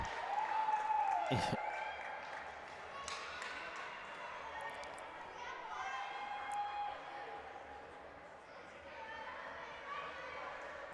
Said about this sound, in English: And there's the parents cheering